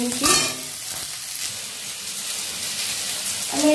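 Onions frying and sizzling in a pan, a steady soft crackling hiss with a stir near the start and again at the end, no talking.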